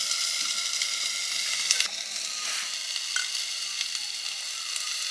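Potatoes sizzle and fry steadily in a pan for an okra-potato chorchori, a close, even hiss with slight crackle and a brief stirring scrape near the two-second mark.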